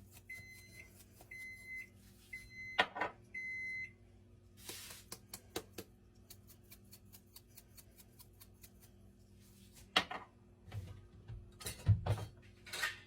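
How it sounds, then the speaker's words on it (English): A home oven beeps to signal it has finished preheating, a series of short, evenly spaced electronic tones near the start, followed by scattered kitchen clatter and faint taps. "The oven is done preheating."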